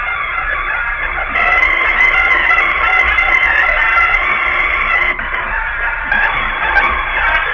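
A voice pitched up an octave and run through Alter Boy and Echo Boy Memory Man plugins, producing a loud, steady, band-limited warbling tone that resembles a crowing or clucking fowl, heard on its own.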